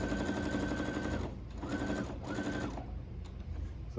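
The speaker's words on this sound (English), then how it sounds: "And we're sewing." A sewing machine stitches fabric for an upcycled skirt in fast, steady mechanical bursts, loud and close, stopping briefly twice between runs of stitching with no talking.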